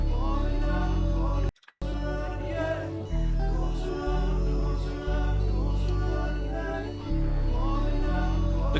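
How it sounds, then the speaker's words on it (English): Reversed harmonic tones swell up and cut off in repeating waves over a dense, dark musical bed, with a brief dropout near the start. "We have these reversed harmonics coming in that sound like this."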